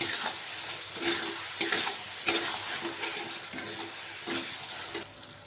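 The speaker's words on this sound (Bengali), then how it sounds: "তো এটাকে এখন ভালো করে ভেজে নেব" Chili chicken frying in a pan with salt and tomato ketchup: a steady, close sizzle with irregular louder bursts of stirring scrapes and spatters throughout.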